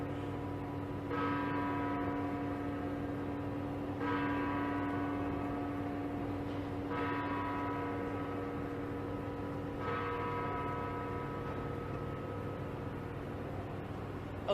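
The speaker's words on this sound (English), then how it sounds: "I'm going to let the bell finish ringing" Church bells toll in slow, regular strikes about every three seconds, each ringing out and fading over a steady background hum, with no voices heard.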